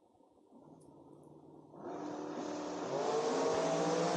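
Drag racing at a drag strip, with dragsters including a 2010 Race Tech launching down the strip, a low engine rumble that jumps into a loud, rising roar held to the end.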